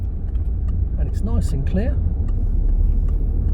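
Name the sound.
car pulling away from traffic lights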